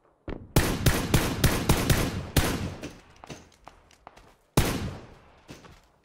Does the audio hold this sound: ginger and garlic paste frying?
no